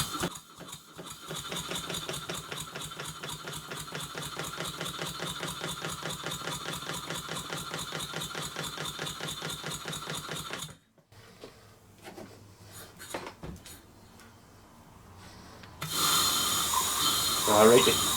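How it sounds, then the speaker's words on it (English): Small model steam engine driven by compressed air, running with a fast, even chuffing beat for about ten seconds before stopping, followed by quieter hiss and fiddling, then a louder burst of air. "I'm going to put some compressed air on and see what it actually runs like."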